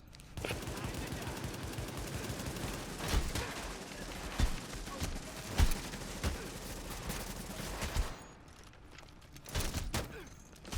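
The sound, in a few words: enemy gunfire in The Division video game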